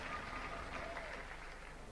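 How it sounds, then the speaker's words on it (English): Audience applause in a Robot Wars arena, a steady broadband patter of clapping that holds evenly across the whole moment at moderate, slightly distant loudness. "Give them a round of applause"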